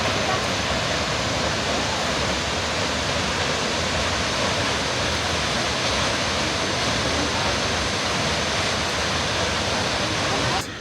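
Thompson Falls in Nyahururu, Kenya, roaring as a loud, steady wall of rushing water that fills the whole scene without pause, with no voices in it.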